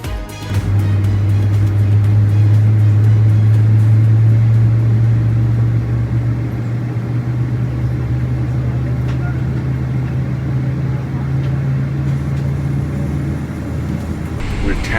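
Inside the cabin of an Air India Boeing 777-200LR taxiing at Bengaluru, a loud, steady low engine drone with a constant hum holds throughout, easing slightly toward the end.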